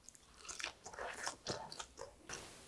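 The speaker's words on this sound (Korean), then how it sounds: "역시 부침용 쌀가루에 했더니 바삭바삭하니 너무 맛있어요" Crisp, crunchy bites into a napa cabbage pancake pan-fried with rice flour, several close crackling crunches with chewing in between and no talking.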